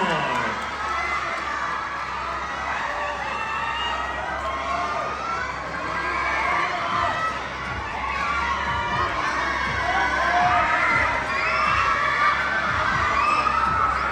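A loud crowd cheering and shouting continuously, many voices overlapping with whoops, filling the whole stretch with lively, sustained noise.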